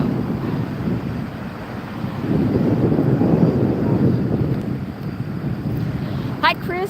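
A British Airways A380 airliner climbs away after takeoff from LAX, a broad, rumbling roar that swells and fades under gusty wind on the microphone.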